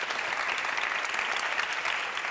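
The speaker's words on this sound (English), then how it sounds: "And a big applause" Attendees at the Future of Women in Tech Summit break into applause, a steady, moderately loud patter of many hands clapping that continues evenly throughout with no speech on top.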